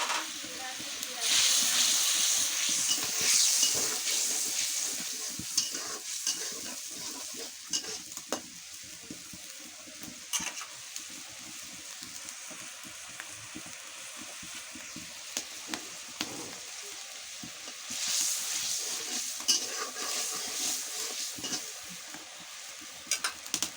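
Shrimp sizzle and hiss in a pan over a clay stove, with stirring scrapes and clicks throughout and bursts of louder frying. A voice speaks faintly underneath.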